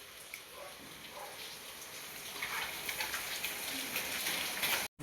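Steady rain pattering on surfaces in an empty street, a continuous dense hiss that swells slightly toward the end before a sudden cut.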